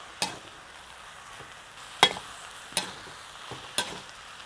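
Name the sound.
stirring egg and colocasia mixture in a pan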